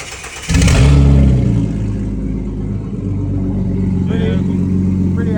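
A Ford EB Falcon with a swapped-in Barra turbo engine cranks and catches, then settles into a loud, steady idle close by with a deep rumble throughout.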